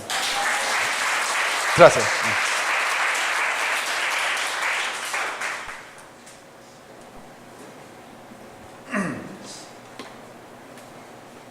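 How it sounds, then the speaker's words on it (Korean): Applause from a church congregation at a Wednesday worship service fills the room for several seconds, then fades into quieter room sound; someone speaks briefly over the clapping and again near the end. "박수 한번 주세요"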